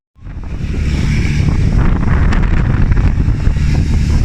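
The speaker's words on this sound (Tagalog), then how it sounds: "Sobrang hangin, nasakit sa mata." Strong wind from a tornado in Porac buffets the microphone in a loud, continuous roar, rumbling low and steady without pause from start to finish.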